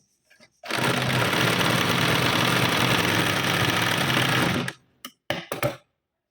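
A sewing machine double-stitches the tucks of a size 38 four-tuck blouse in one long steady run, a close continuous whirring hum that cuts off, followed by a few short bursts of stitching.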